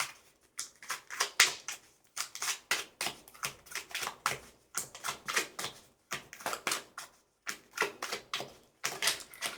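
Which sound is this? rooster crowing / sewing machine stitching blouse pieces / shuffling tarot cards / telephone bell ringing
shuffling tarot cards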